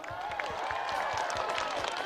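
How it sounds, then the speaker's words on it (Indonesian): Applause for Pak Bas at a live stage show, a steady, fairly quiet wash of many hands clapping with cheering mixed in, continuing without a break. "Tepuk tangan sekali lagi buat Pak Bas Jokowi"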